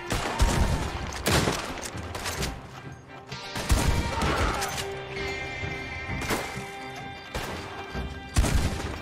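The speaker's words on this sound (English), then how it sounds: "The shotguns are the real deal, guys. In case you're curious, they are no joke." Heavy shotgun blasts in the Red Dead Online video game, several loud booming shots spaced irregularly across the stretch with crashing impacts and a busy background of game noise.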